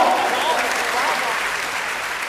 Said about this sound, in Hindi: एक बार तालियां बजाकर बिना भूमिका के जोरदार तालियों से एक बार फिर दोबारा।